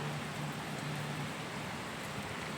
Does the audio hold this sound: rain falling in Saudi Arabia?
yes